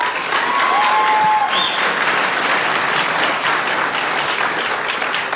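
Sustained audience applause greeting Michele Fincher at a DEF CON 25 Social Engineering Village talk, a dense, steady clapping that fills the room throughout, with faint whistle-like tones near the start.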